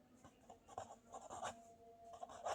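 A pen scratches on paper while a maths equation is worked out for a Class 9 exercise, with close, soft, irregular strokes and brief pauses and no voices.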